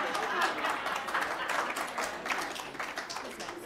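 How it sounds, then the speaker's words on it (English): Audience applause at a school board meeting, many hands clapping in a dense, steady patter that fills the room at moderate distance, with faint voices mixed in. "if you'd like to clap in between,"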